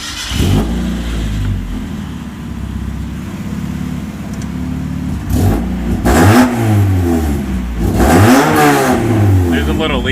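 A Mazda Miata engine fitted with a cheap new race header exhaust starts up and idles loudly and close, then is revved hard several times in rising and falling sweeps; people talk over it.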